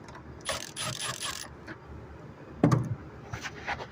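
A ratchet works on 8mm bolts holding the air filter box of a 2005 GMC Yukon 1500 during a valve cover gasket job, making quiet clicking bursts early and a sharper clatter near the end, with no talking.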